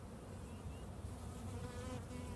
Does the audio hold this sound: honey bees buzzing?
yes